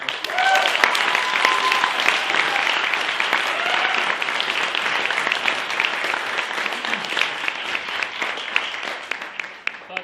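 Sustained applause fills a university hall as the audience claps to honour a newly appointed honorary professor in the Department of Political Economy, dense and steady for about ten seconds before tapering slightly, with faint voices mixed underneath.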